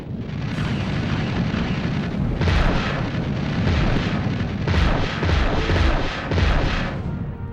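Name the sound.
enemy target destroyed, explosion in Wing Commander III video game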